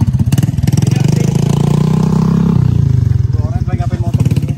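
A motorcycle engine runs close and loud with a rapid, pulsing putter that rises and settles, while voices talk over it.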